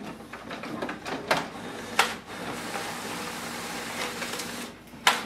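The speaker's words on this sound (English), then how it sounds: "So you can see the scan is quite fast." An HP OfficeJet Pro 9135e printer scanning pages, a steady mechanical whir with a few sharp clunks and clicks from the feed mechanism, fairly faint and heard alone.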